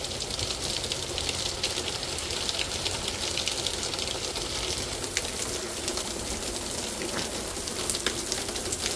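Heavy rain pouring during a Canadian summer thunderstorm, a dense, steady hiss of drops hitting surfaces with scattered sharper splashes, close and continuous without talk.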